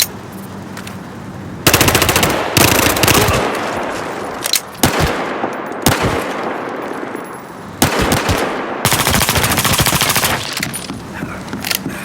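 An MP5K submachine gun in Battlefield Hardline fires loud, rapid automatic bursts, several long strings of shots broken by short pauses.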